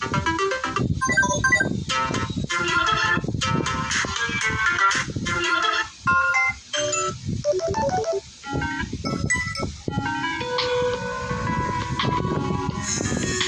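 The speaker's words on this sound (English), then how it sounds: "Check out my new ringtone." A busy, melodic electronic phone ringtone plays loudly and continuously, with quick tonal runs and brief gaps between phrases.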